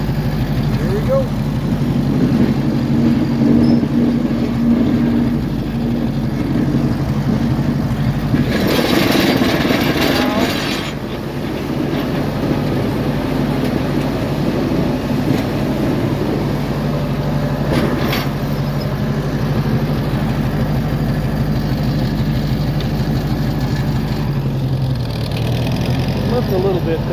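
A Ford 8N tractor's engine chugs steadily in first gear, a rough low idle-like putter with brief louder clanking bursts while pushing material aside; no speech over it.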